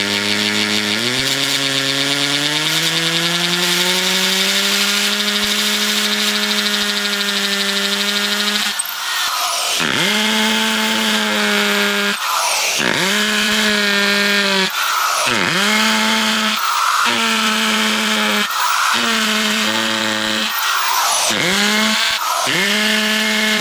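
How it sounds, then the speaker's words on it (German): A power drill whines loudly and steadily while drilling holes in a ceramic bonsai pot, its pitch dropping and rising in repeated bursts as the bit bites in and releases, with no talking. "Allerdings müssen wir zuerst mal ein paar Löcher in die Schale bohren"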